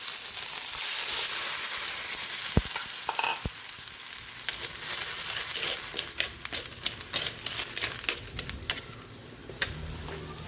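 Dried fish (tuyo) fries in a pan with a steady close sizzle and hiss. A few sharp clinks and scrapes of stirring are heard, and a crackling spatter picks up toward the end.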